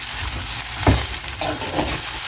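A durian seed mixture with onions and dried fish chili is stirred in a hot pan. Loud, continuous sizzling carries a few scraping strokes from the spoon.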